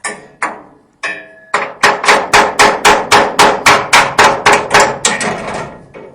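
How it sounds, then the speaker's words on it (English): Metal hammer blows ring out while knocking out a leaf-spring bolt on a 1947-54 Chevy/GMC truck, a few scattered strikes then a fast steady run of about a dozen loud, close knocks. "Take these off by hammering this out"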